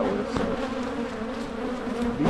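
Honeybees buzz steadily around an opened hive during early spring colony work, a dense close drone with individual bees passing near.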